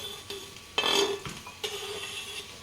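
Broccoli, capsicum and sweet corn tumbling into a hot pan for noodles: a clattering rush of vegetables hitting metal, followed by short bursts of sizzling and scraping.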